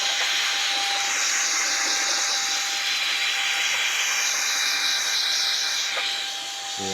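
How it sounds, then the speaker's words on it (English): A loud, steady air blower hisses and roars without a break, blasting pollen out of a 1996 Impala SS. The noise holds for several seconds and eases a little near the end, with no talking. "Let me go ahead and blow this out too."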